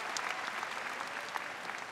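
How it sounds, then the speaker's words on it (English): Graduation ceremony audience at a college commencement applauding, a faint, distant, even patter of many hands clapping alone for two seconds. "Now, yeah, that deserves applause"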